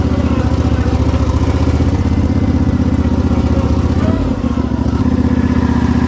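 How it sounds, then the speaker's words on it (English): Small engine on a homemade wheel loader running at a steady high idle, loud and close, a constant throbbing drone with a brief dip near the end, no talking. "Now it goes to like a high idle."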